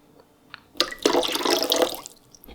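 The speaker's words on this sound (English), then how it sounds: "Let's start by filling this bowl with some cold water." Cold water runs from a tap into a bowl, a brief splash followed by about a second of steady close pouring that then fades away, with no voices.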